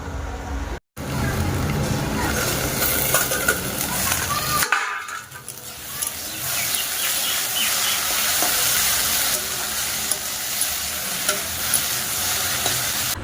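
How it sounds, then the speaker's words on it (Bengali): Okra sizzles and fries steadily in a pan, a dense continuous crackle with stirring scrapes; the sound cuts out briefly and resumes. "আর এই ঢ্যাঁড়স ভাজাটা করছি"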